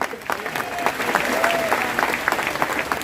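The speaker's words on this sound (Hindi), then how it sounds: "उनके नाम की जरा एक ताली लगाएं" An audience at a constitution awareness conference in Nagina, Bijnor, breaks into a short burst of loud, continuous clapping that fills the whole stretch, with a faint voice or whistle rising briefly through it.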